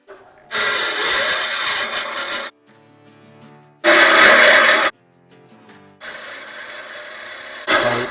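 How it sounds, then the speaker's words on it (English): A bandsaw cuts through parts of a 1987 Honda TRX250R ATV frame, making loud, steady, harsh grinding rasps in three long passes separated by quieter gaps. "I'm just gonna use my bandsaw."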